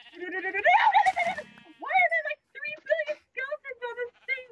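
Sheep in the Minecraft video game bleating loudly and close, several wavering baas in a row separated by short gaps, with a person's voice mixed in.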